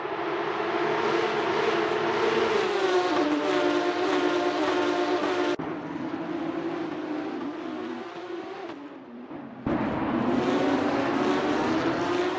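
Race cars roar wheel to wheel in Assetto Corsa at Mexico City, with two Autotech cars' engines droning loudly and steadily, pitch rising and shifting as they cut between gears, a brief dip before the roar returns.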